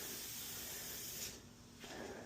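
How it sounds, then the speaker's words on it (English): A hose nozzle sprays lubricant onto garage door bearings, a steady close hiss that briefly drops off and then resumes, with no talking. "this hose makes it perfect so you could stand here, spray it without it getting everywhere"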